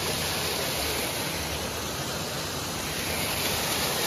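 A waterfall at Darjeeling Rock Garden pours down from above in a dense, unbroken roar of rushing water, loud and close, with no voices.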